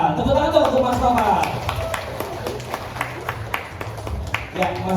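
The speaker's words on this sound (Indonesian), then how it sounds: "Tepuk tangan dong untuk Mas Nova." An audience at a content creator workshop claps as a guest is welcomed, a busy patter of scattered hands over a room hum, with people talking over the applause.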